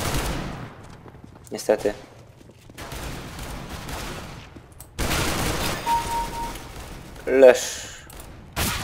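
Gunfire from the CS:GO video game crackles in bursts amid constant game noise, with a louder shot near the end, while someone talks over it in Polish.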